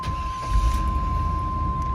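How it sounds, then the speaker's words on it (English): A 1991 Chevrolet Blazer truck with 77k miles idles steadily just after a cold start, with the AC on maximum. A low, even engine rumble sits under a constant thin whine, with no talking. "So the cold start's great on this truck."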